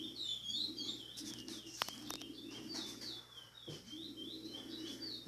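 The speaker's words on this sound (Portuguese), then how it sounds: "Pode observar o passarinho cantando." A chestnut-bellied seed finch (curió) recovering from molt sings clear, repeated whistled phrases near the listener, with brief gaps and a couple of sharp clicks against a constant low hum.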